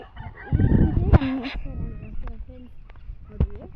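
Chickens cluck and a rooster crows at a chicken farm where turkeys are also kept, close and loud at first, then scattered clucks continue as a person talks over them.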